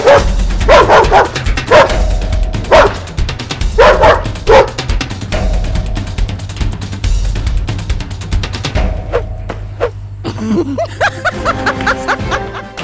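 A dog barks in a few loud, spaced bursts during an indoor comedy skit, over a steady low background hum.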